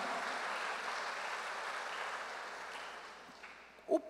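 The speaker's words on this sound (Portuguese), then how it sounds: "E dá um aplauso para Jesus." Church congregation applauding during a sermon, a soft, distant wash of steady clapping that gradually fades, ending with a brief sharp knock near the close.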